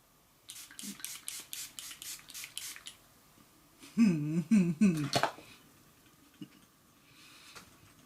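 A spray bottle spritzes in a quick run of short bursts, then after a pause comes a louder fumbling, handling noise and a few faint sounds.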